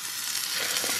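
Steak frying in a small pan, a steady close hiss of sizzling fat that holds evenly through one brief moment with no voices.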